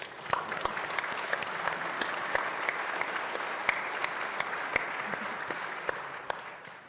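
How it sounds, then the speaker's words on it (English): An audience at a panel on psychedelics in veteran care applauds the speakers, with dense, even clapping and sharp individual claps standing out. It tapers slightly at the very end. "let's give them a round of applause then"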